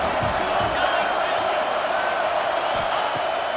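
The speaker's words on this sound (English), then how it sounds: "how nice is it to have the home crowd going absolutely bananas?" Home crowd in a college football video game (Texas) roars steadily and loudly, a dense continuous wall of cheering with no breaks across the stretch.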